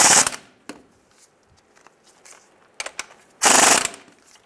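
Ratchet bursts working bolts on a 2007-2013 Chevy Silverado engine during a timing chain replacement: a short ratcheting spurt at the start, a few faint clicks, then a louder, longer ratcheting run near the end, close up.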